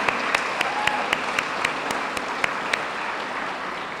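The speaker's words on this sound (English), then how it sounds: "Can I please get a round of applause for Chief Ayala?" Applause from the audience at a police department annual awards banquet, steady dense clapping across the whole stretch with a few sharper individual claps standing out, no talking over it.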